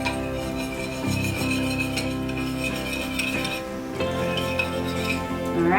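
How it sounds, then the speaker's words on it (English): A utensil stirs glitter into homemade monster slime in a container, making a continuous soft scraping with light clinks, heard under steady background music. "Let's add some glitter to this. And we're going to stir again."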